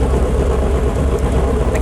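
An Onan 884 cubic inch V8 generator engine runs at a steady, loud, droning idle, a dense continuous rumble with no pauses and no talk over it.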